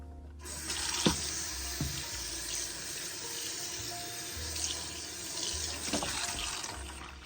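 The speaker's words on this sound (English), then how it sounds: "so I'm going to rinse this off" Tap water runs steadily as a freshly cleaned item is rinsed under it in a sink, a continuous broadband splash with a few brief clunks of the item shifting under the stream, no voices.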